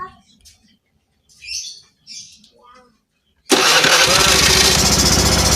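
A carbureted Honda Vario scooter with high fuel use and weak power, its engine starting after a few seconds of quiet voices, then running loudly and steadily up close.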